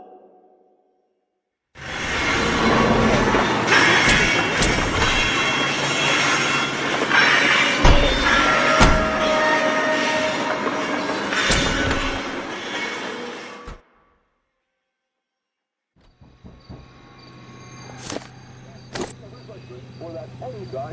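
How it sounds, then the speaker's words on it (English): A train in the video game LA Noire rumbles loudly through a tunnel with squealing wheels and a steady roar for about twelve seconds. It then cuts out abruptly, and quieter game sounds follow. "Ah, god damn it, the train up ahead."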